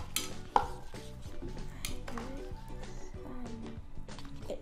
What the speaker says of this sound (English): you're supposed to mix it with the spoon